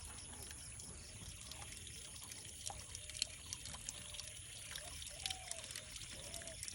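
A water tap at a home garden trickles quietly and steadily, a thin faint flow with small irregular splashes over low background noise.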